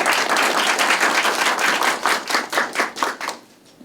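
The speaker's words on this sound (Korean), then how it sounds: "박수로 환영해 주시면 좋겠습니다." Audience applause at the 2020 Korean baduk (Go) awards ceremony greets the president of the Korea Baduk Association, a dense wash of clapping that runs loud for about three seconds, then thins into scattered claps before fading out.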